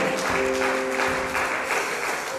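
Church congregation applauding at a French-language service, with dense sustained clapping and cheering and a steady voice carrying through the noise.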